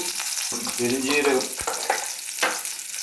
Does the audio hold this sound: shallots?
yes